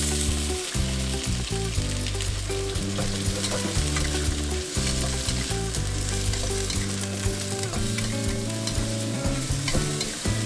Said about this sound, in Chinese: 倒入豆角段翻炒。